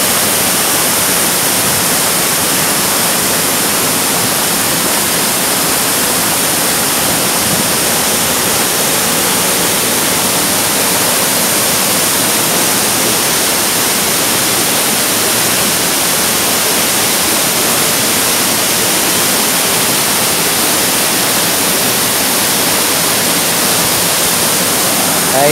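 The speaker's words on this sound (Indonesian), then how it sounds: "Air terjun ini mirip Curug Jinjing ya, yang ada di bawah Curug Gado Bangkong" Curug Ciung waterfall roaring in a steady, loud, unbroken wash of falling water, close by and constant for the whole stretch with no other sounds emerging.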